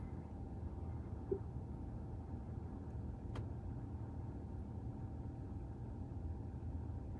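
A BMW 2 Series Active Tourer 223i idles steadily after starting, a low, even engine rumble with a faint thin tone and one brief click, heard on its own without talking.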